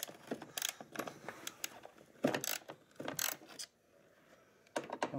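A wrench loosens a bolt on the rear skid of a 2002 Ski-Doo MXZ 700 snowmobile, working in a cramped spot, with close, irregular metallic ratcheting clicks in bursts and a short pause, without talk.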